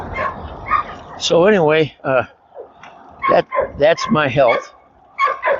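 A dog barks and yips in several sharp bursts during a morning electric trike ride, loud and close, interleaved with someone talking.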